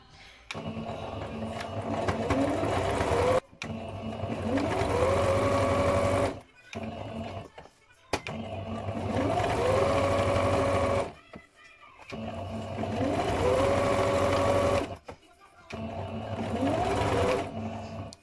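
A sewing machine stitches around fabric for washable wipes in several bursts of a few seconds each, separated by short pauses. A voice speaks faintly between runs.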